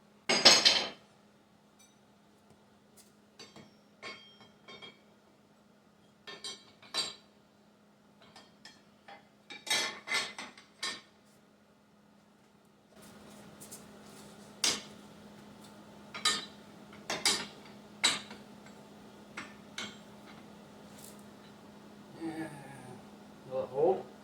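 Metal clinks and taps ring out sporadically as a bolt is worked tight on an ATV track mount, short sharp knocks scattered over a quiet background with a faint steady hum.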